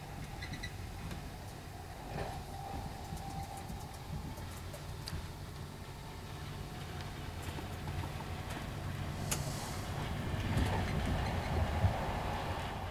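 Steady low rumble of a moving train interior, with a continuous rolling drone and faint scattered clicks and rattles, no talking.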